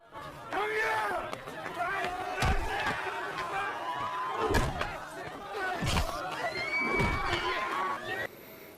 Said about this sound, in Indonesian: Mereka berteriak agar kepala sekolah keluar